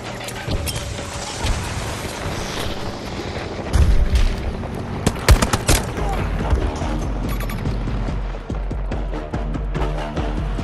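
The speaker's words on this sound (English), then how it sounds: "Throwing grenade!" A grenade explodes in Battlefield 2042 during a Flashpoint Breakthrough defence, a heavy boom rising out of dense battle noise, with further sharp blasts and crackling gunfire layered through a loud, busy soundscape.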